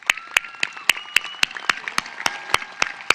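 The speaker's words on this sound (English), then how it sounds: "One more round of applause for all these awesome accomplishments." Sparse claps ring out at a high school graduation for the class of 2022 seniors, a dozen or so distinct sharp hand claps in a loose, uneven rhythm, fairly close and moderately loud.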